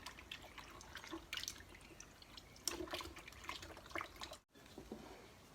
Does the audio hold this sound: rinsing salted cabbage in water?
yes